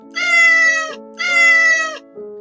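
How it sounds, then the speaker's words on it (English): A black cat meows loudly twice in long drawn-out calls, followed by a short softer third meow, close to the microphone with no other sound. "With the sighting of our favourite black cat"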